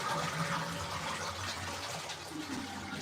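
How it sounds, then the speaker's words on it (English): A toilet flushes after its lever is pulled during a fill valve replacement with the water supply shut off, a loud continuous rushing of draining water close by, no voices. "And then I'm just going to drain the bowl by just pulling the lever."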